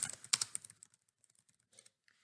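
Someone types a reply on a computer keyboard, and the close, crisp key clicks come in a quick burst that thins out to a few scattered taps, with no talking.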